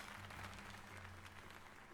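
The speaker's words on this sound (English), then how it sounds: "let's get us another heartfelt round of applause to Yoshi." Faint, steady crowd applause in the video game Pokémon Legends Z-A, a dense wash of clapping with a low electronic hum beneath it.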